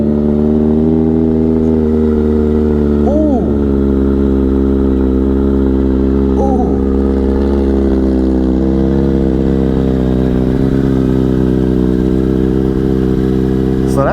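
A Kawasaki Z900 motorcycle with aftermarket exhaust and airbox removed idles steadily with a deep, throaty exhaust burble, close and loud, with a couple of faint chirps briefly rising over the engine.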